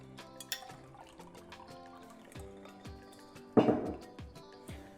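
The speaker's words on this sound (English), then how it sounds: "take your cold brew, which already has ice in it, and pour some in your cocktail shaker" Iced cold brew coffee is poured into a cocktail shaker, with a short burst of liquid and clinking ice over sharp clicks and taps from handling the vessel.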